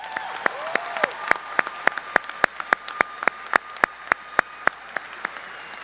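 Slow, sparse clapping at a high school graduation, single sharp claps spaced at a steady rhythm over a faint room background.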